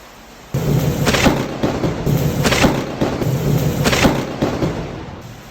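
A heavy rainstorm pours down in a loud, steady roar, with booming thunder from a nearby lightning strike. Several surges of crashing noise come about every second and a half.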